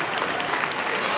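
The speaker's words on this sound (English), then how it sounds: "Let's give them one more round of applause before they have a seat." A school gym crowd at a Polar Plunge pep rally for Special Olympics Minnesota gives a dense, steady round of applause that fills the whole moment.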